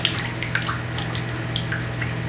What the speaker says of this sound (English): see there's the water overflowing